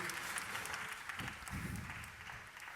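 A church congregation claps together in praise during a Voice Of Grace healing service, a dense, continuous wash of applause heard at a distance for a few seconds without any clear voice on top.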